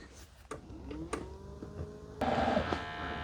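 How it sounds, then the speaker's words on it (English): After a few soft clicks, the water pump of a Mova P10 Pro Gen 2 robot mop kicks on, filling its internal water tank with a steady, close buzzing whir that continues to the end. "You can hear a water pump kicking on."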